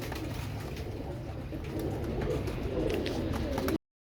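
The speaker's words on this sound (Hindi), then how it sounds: "ये सोनू भाई देखो तुम्हारा कबूतर" Royal Teddy pigeons coo close by in a loft, soft low throaty coos repeating steadily against a faint background with no voices.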